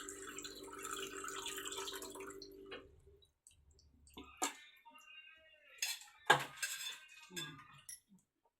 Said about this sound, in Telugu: చింతపండు పులుసు వేసుకోవాలమ్మా